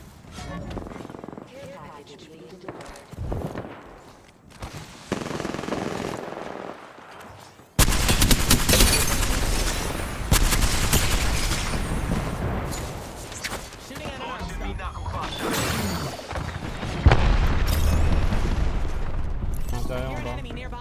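Gunfire rattles through a Pinpin Legends video game match in rapid bursts and single shots, quieter at first and then much louder and denser, with booms mixed in and people talking over it.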